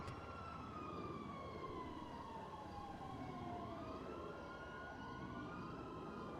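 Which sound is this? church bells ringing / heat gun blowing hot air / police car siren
police car siren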